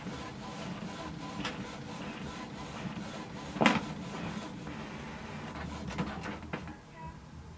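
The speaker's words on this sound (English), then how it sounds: "You can see the printer is a bit slow, but it's doing job itself." Canon TS5320 printer making a two-sided copy gives a quiet mechanical whir with paper shuffling, a sharp clack midway and a few lighter clicks near the end as the page is pulled back in.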